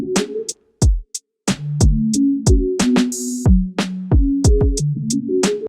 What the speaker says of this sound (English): And so overall the drums sound like this.